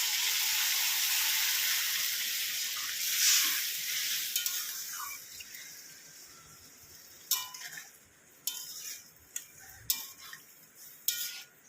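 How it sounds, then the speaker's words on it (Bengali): Water poured into a hot pan of frying egg curry masala sets off a loud hissing sizzle that gradually dies down, followed by a few light metallic clicks and taps of a spoon against the pan. "এবার আমি জল দিয়ে দেবো পরিমাণ মতো।"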